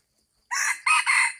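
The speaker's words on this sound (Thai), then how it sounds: "นั่นเสียงตัวแม่ขัน" A rooster crows once, close and loud, a short broken call in two bursts with no other sounds around it.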